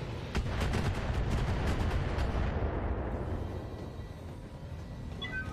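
Long-range missiles volley in BattleTech, a roaring, crackling barrage of rapid launches and impacts that rolls on continuously and slowly tapers toward the end.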